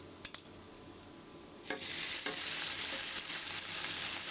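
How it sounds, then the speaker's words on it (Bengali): Onions being fried until browned for a prawn and bottle-gourd greens dish: a few soft knocks, then a loud, steady sizzle with stirring that continues to the end. "পেঁয়াজটাকে একটু আমি লাল করে ভেজে নিব"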